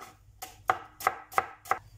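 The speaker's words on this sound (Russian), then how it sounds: "Дальше я беру репчатый лук, 400 грамм, и нарезаю перышками." A knife slices through onion, cut into thin wedges for a chicken dish, with five crisp, evenly spaced chops on a board, close and fairly quiet, without voices.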